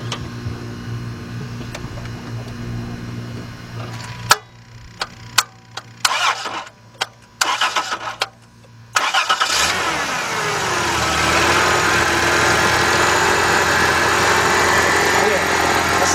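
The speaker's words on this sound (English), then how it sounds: "now I'm gonna start the car up, check it out" A 1996 Dodge Intrepid cranks with a run of short, uneven starter bursts and pauses, then catches and settles into a loud, steady idle close by, over an earlier low hum and some talk.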